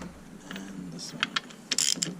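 A ratchet wrench loosening engine mount bolts on a Mazda 5, a few short, close mechanical clicking bursts with a brief pause between them in a quiet garage.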